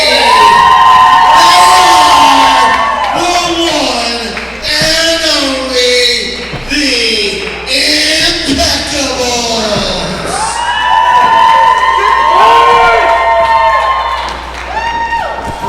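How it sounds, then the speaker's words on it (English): A large crowd cheers and shouts continuously at a wrestling show, loud and sustained, with whoops and yells rising and falling throughout. "Listen to them cheering for the last time the Impeccables gracing that Sanctuary ring."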